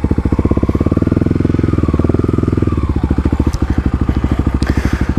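A quad bike's engine chugs nearby as it climbs over logs off-road, a loud pulsing throb that surges briefly, then settles into a rhythmic putter.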